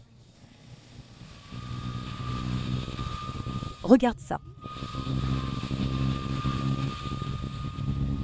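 Bajaj Dominar NS400Z motorcycle in sport mode on the road, its engine droning steadily under wind noise with a brief spoken interjection in the middle.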